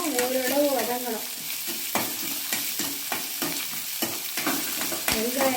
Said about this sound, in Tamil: இப்போ வெங்காயம் ஓரளவு வதங்கணும்.